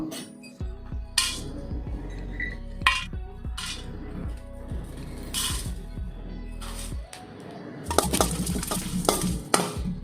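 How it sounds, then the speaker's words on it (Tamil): Whole spices are dry-roasted in an empty pan for biryani, sounding as intermittent scraping, rattling and clinking as they are stirred, with short loud bursts and quieter gaps, close by. "வாங்க இது எல்லாத்தையும் ஸ்பைசஸ் எல்லாம் நம்ம ஃப்ரை பண்ணணும்."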